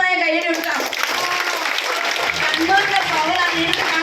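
An audience applauds at a marketing company event in Kannur, a dense wash of clapping over music with a voice speaking over it on a public address.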